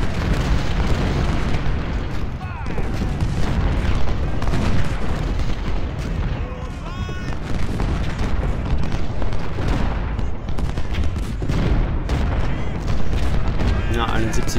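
Booming cannon and artillery fire on a Civil War battlefield in Ultimate General: Civil War, with repeated heavy blasts and rumbling volleys over a busy battle din, while someone speaks German over it.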